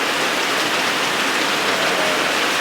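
Steady, dense rain pours in an MMO RPG game, a continuous even hiss with no talk over it.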